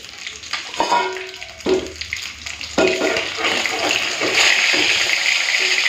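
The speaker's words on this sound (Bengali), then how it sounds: "মাছের মাথাগুলো ভেজে নিই" Bhetki fish heads fry in a pan, a few sharp knocks and clatters giving way to a steady, fairly loud hissing sizzle that holds to the end.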